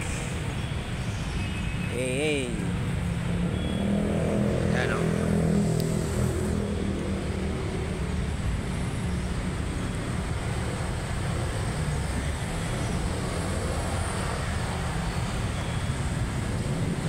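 Steady street traffic on a Saturday afternoon, a constant broadband wash of engines and road noise with a brief horn-like tone early on, under someone talking throughout.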